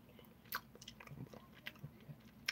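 A person chewing food close to the microphone, with soft irregular crunches and bites spread across a quiet background.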